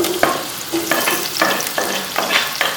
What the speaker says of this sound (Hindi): जैसे ऑयल गर्म होता है तो इसके अंदर हम प्याज डाल देंगे